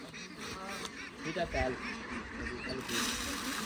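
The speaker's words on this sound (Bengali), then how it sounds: "হাঁসের খানা পরিবেশন হচ্ছে" Ducks quacking by a village pond as their feed is served, a cluster of close nasal quacks and honks with a person talking over them.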